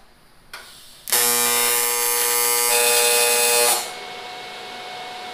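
A welder runs on a chopped aluminum oil pan, a loud, steady electric buzz that holds for about three seconds and then cuts off, with a quieter hum before and after.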